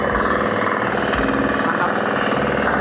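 Mini tractor FTI2010DE III, a high-torque heavy machine, tilling heavy soil with a steady loud engine drone and rhythmic low thumping from the tines, running continuously throughout.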